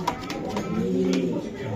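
A racing pigeon coos in soft, low, rounded calls close by, with light background noise and brief chatter nearby.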